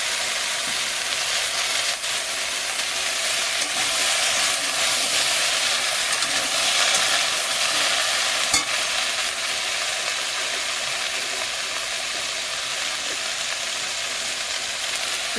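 Taro, potato and yard-long beans fry in a pan with garlic-ginger paste and spices, a steady loud sizzle and hiss running throughout with no speech.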